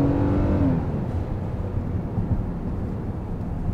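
A Kia Telluride SUV with a 3.8 V6 accelerates in sport mode, its engine rising in a close, steady, loud drone with no talking.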